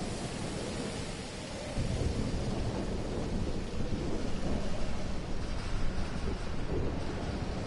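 Heavy thunderstorm ambience in the game Life Is Strange: a dense, continuous roar of rain and rolling thunder rumble, loud and unbroken throughout, swelling slightly after the first couple of seconds.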